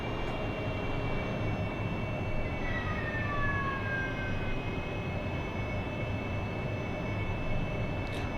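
AV-8B Harrier jet engines in the DCS World flight simulator, a steady loud broadband roar with whining tones, constant throughout with no talk.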